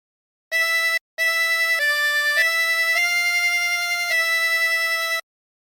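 A harmonica plays the opening phrase of the hymn There is a Redeemer: a short note, a brief gap, then a run of sustained blown and drawn notes changing pitch, played close and alone.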